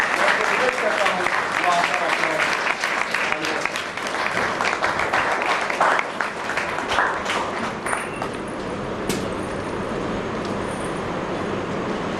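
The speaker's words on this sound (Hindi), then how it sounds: "जोरदार तालियां से अरुण मिश्रा जी का स्वागत कीजिए" A hall audience gives a loud, sustained round of applause welcoming a speaker at a talk, the clapping thinning and fading toward the end.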